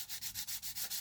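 Sanding on a 1/24 scale model kit, a quiet close-up rasp repeated in about eight quick, even back-and-forth strokes with brief gaps between them.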